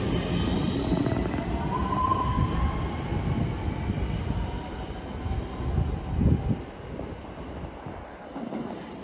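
Class 156 and Class 150 diesel trains pass through Edge Hill station, a steady low rumble of engines and wheels holding throughout with a brief louder swell near the middle.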